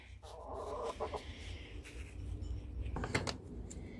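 Hens cluck softly inside a chicken coop on a cold winter day, with a few short clucks and low murmurs over faint background noise.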